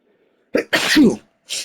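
A single sharp sneeze, with a quick intake of breath before it and a short exhale after, close and loud in a quiet room.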